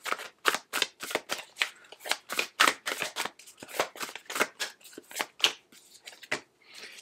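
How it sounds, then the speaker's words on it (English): A Shaman's Dream oracle card deck shuffled by hand, a quick run of crisp riffling and slapping card bursts in an uneven rhythm, close and clear with no talking. "I'm going to pull an oracle from the shaman's dream oracle for you"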